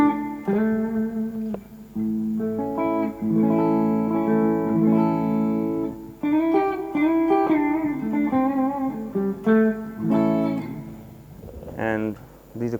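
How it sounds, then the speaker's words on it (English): Electric guitar on a clean tone plays sustained chords and single-note phrases, with clear ringing harmonics, prominent and close, heard alone without talk. "So this is a clean tone, and this is what it sounds like."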